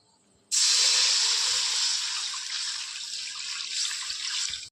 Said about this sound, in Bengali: জল দিয়ে দিয়েছি চাউমিন সিদ্ধ হওয়ার জন্য